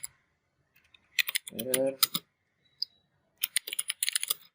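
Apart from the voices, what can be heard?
typing on a computer keyboard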